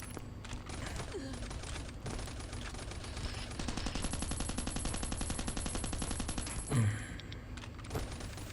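Gunfire rattles in the survival game Last Island of Survival, a sustained stream of rapid automatic shots at moderate distance against steady background noise, with a brief louder thump near the end.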